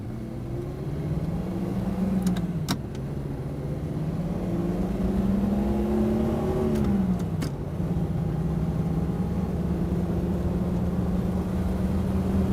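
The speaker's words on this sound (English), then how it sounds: "we'll do a little power pull out here if we can and get out into this traffic" A 1959 Mercedes 220SE engine hums steadily and its pitch rises and falls as it accelerates into traffic, with a couple of brief clicks; no talking.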